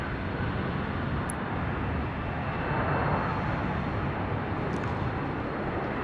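An airplane arriving on runway 16 right at Sydney Airport at night gives a steady, loud, broadband engine roar that holds evenly throughout without pause.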